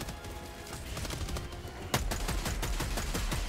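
Rapid gunfire from the Helldivers 2 video game crackles in dense automatic bursts, growing louder and sharper after a heavy impact near the middle.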